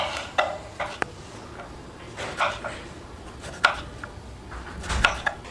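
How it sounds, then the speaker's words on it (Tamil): A knife slices a peeled snake gourd into rounds in a home kitchen, giving sparse, separate thuds and clicks against the board with short pauses between cuts, close by and with no talking. "புடலங்காவை ரவுண்டாக நான் கட் பண்ணிக்க போகிறேன்."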